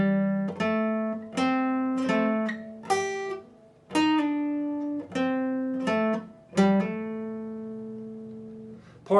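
Guitar plays the second part of an intro at slow speed: a steady sequence of about a dozen clear plucked notes and chords, each ringing briefly before the next, close and unaccompanied.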